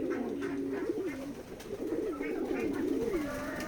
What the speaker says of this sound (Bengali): কবুতরের খামার